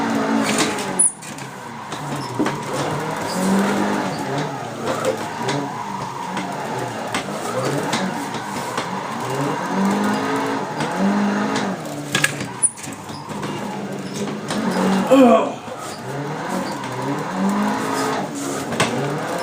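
A Nissan 180SX drifting down the Happogahara touge in Assetto Corsa: a sustained engine drone that swells and falls with revving, with brief tire squeal in places, continuous throughout.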